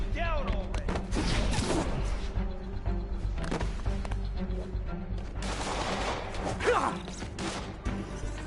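Rapid bursts of gunfire with crashes and mechanical clatter in a Spider-Man game or action scene, loud and dense, mixed with music and effects throughout.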